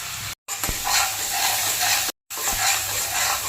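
Ginger paste and two garlic cloves fry in hot oil with nigella seeds, a dense close sizzle broken by two brief silent gaps and a couple of sharp utensil taps.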